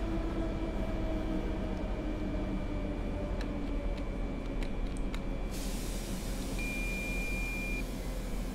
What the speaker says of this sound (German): dass der Zug echt schlecht bremst